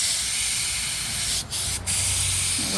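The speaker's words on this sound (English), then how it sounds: "the noise from my airbrush" An airbrush sprays paint onto a t-shirt, giving a steady close hiss that runs throughout, with two brief breaks in the spray near the end and low traffic rumble beneath.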